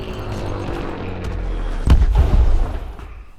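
A destroyed target explodes in the space combat game Elite: Dangerous, a single loud booming blast rising after a rumbling engine drone, then fading away.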